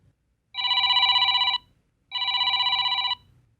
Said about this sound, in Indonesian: Suara dering teleponku berbunyi seketika.